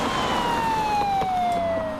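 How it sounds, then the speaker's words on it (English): An emergency siren wails with a single long, slowly descending tone over steady traffic rumble, moderately loud and somewhat distant. "if there is a siren warning us to get out of the way"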